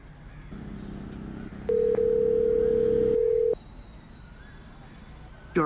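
A telephone ringback tone on an unanswered call sounds as one long, loud, steady tone lasting nearly two seconds, set against a low background hum, with a brief sharp sound at the very end.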